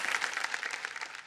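Applause from a television quiz show studio audience welcoming a contestant's family, a steady dense wash of clapping heard close and alone for a brief moment.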